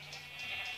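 Sheep bleating in the video game Minecraft, a short, fairly faint wavering bleat with no talk over it.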